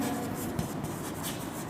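Continuous scratchy writing on a board during a maths class, a steady close rubbing stroke with no talk.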